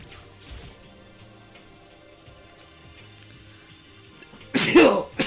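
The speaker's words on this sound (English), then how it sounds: "Sneeze." After a stretch of quiet low background sound, a single loud sneeze bursts out near the end, close and abrupt, in the video game Danganronpa.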